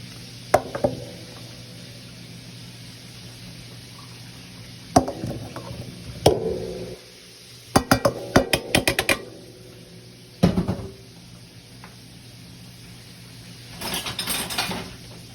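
Butter and potatoes being mashed in a pot, heard as scattered bursts of soft thuds and scraping, with a cluster of quick knocks near the middle and a rustling stretch near the end, over a low kitchen hum.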